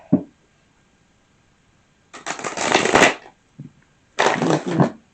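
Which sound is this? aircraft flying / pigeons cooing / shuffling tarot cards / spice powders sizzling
shuffling tarot cards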